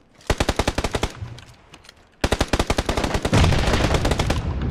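Rapid automatic gunfire from a PUBG match rattles off in two close, loud bursts separated by a short pause, the second burst longer and denser.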